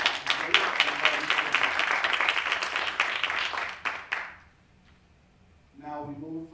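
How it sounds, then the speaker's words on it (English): Audience applause at a school board of education meeting in a high school theater, a dense burst of many hands clapping for about four seconds that quickly dies away, followed by a brief quiet and then a voice speaking. "So let's give Alex a round of applause"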